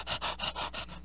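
A voice imitates a dog panting, five quick rhythmic breathy huffs in about a second, close and soft.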